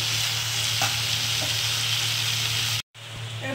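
Potatoes and fried ground spices sizzle steadily in a pan while being stirred, a continuous close frying hiss with a brief cut near the end.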